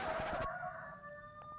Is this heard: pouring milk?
no